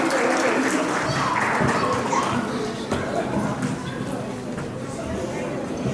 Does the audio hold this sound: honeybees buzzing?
no